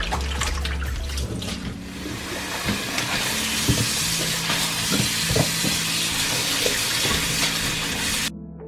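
Salted napa cabbage is rinsed and shaken in water while making white kimchi. Steady close splashing and trickling is broken by sloshing bursts, fairly loud, and stops abruptly at the end.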